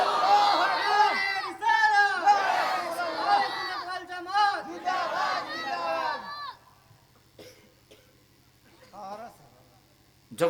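A large crowd at an outdoor Islamic sermon gathering roars 'Allahu Akbar' in unison in answer to a takbir call, a loud, dense chorus of many voices lasting about six seconds before dropping to scattered murmurs and a lone voice.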